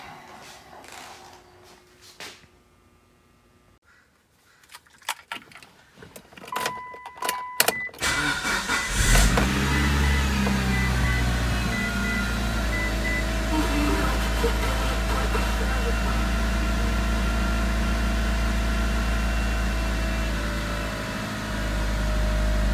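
A cold Mitsubishi Evo 9, left sitting for over a week, is started: after several quiet clicks and handling noises, the engine catches loudly and settles into a steady, close, droning idle that lasts to the end.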